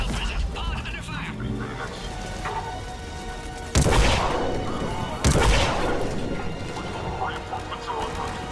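Gunfire in the Mass Effect 3 video game rattles through a noisy battle, with two loud, sharp bursts standing out over steady combat clamor, and voices and radio chatter underneath.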